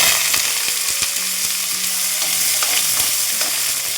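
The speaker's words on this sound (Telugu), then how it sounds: "దాంట్లో ఉల్లిపాయ ముక్కలు వేస్తున్నాం" Onion pieces frying in oil in a pan, with a steady close sizzle and occasional stirring clinks throughout, no talking.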